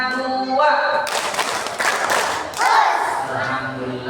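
Schoolchildren at a madrasah gathering clapping together on cue in a rhythmic chant routine, a crowd of small hands patting in patterned bursts mixed with voices and shouting in a reverberant room.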